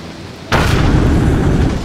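Ship weapons fire and explode in the naval combat game Abandon Ship: a sudden loud boom hits, then a sustained rumbling blast roars on for over a second.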